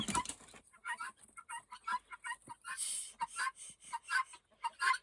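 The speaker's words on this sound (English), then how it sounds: "It's just the roosters." Roosters and fowl clucking in short, repeated bursts, several birds close by with brief pauses between calls.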